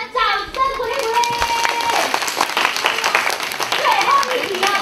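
Audience at a children's Shrek reading musical event claps together in a steady burst of applause that runs the length of the moment, with children's voices and chatter mixed in.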